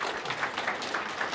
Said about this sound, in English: Let's give it up a round of applause for Yuri.